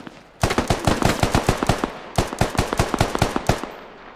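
Rapid bursts of automatic gunfire from the tactical shooter game Squad, two volleys of sharp shots in quick rhythm separated by a short pause, loud and close.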